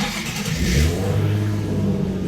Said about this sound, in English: One last thing, I wanted to start the car.